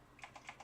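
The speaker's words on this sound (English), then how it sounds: "And you type Jorge" Computer keyboard keys tapped in a quick burst of about four crisp, close clicks, alone and fairly quiet.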